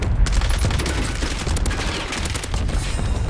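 Dense automatic gunfire from a Call of Duty match on Rebirth Island, rapid bursts of shots overlapping continuously and loudly with booming low end, no voices.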